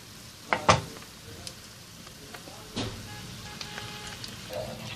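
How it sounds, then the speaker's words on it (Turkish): Cream being poured into a pan of fried tomato paste, giving a soft, steady sizzle and hiss with a couple of sharper splashes and clinks near the start, close and moderately quiet throughout. "Şimdi bir paket 200 milim kremamı ilave ediyorum."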